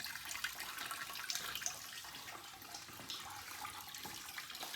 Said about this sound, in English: Draining the gas out of this petcock, looks good.